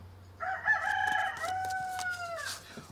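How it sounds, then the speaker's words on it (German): A rooster crows once, a long, clear cock-a-doodle-doo held for about two seconds, moderately close over a low steady hum. "Und wieder kräht der Hahn"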